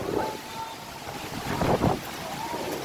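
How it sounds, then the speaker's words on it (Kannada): Wind blows and buffets steadily outdoors, with gusts swelling midway, no voices present. "ಈಗ ಗಾಳಿ ಹೊಡಿತಾ ಇದೆ ನೋಡಿ"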